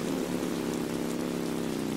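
Steady rain in the Roblox Bloxburg game, an even, unbroken hiss with a low droning hum beneath it, constant throughout and with no voices.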